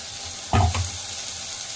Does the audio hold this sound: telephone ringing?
no